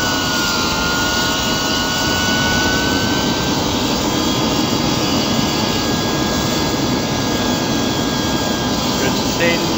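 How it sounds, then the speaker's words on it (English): A homemade tin can jet turbine engine runs with a loud, steady roaring rush and a sustained high whine that holds almost level throughout, close and unbroken. "That's jet propulsion."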